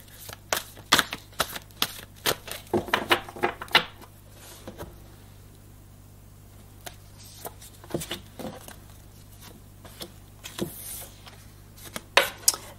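A deck of tarot cards is cut and shuffled, giving quiet bursts of crisp riffling clicks and taps, clustered at the start, middle and end with calmer gaps between.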